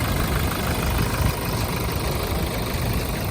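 A 2017 Toyota Innova Crysta 2.4 engine idles nearby with a smooth, even rumble that holds steady throughout, with no voices.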